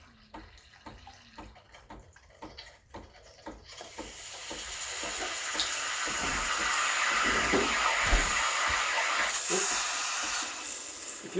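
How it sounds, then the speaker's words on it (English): A Breville Barista Express BES870 steam wand sputters quiet, irregular spurts of cold water, then breaks into a loud, steady, close hiss of steam that holds to the end. "It's going to spurt out some water, which is the cold water before the steam starts coming out."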